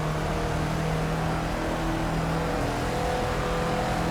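A Caterham race car in the Project Cars racing game runs flat out at full throttle up a hill, its engine a loud, steady, unbroken drone with no talking.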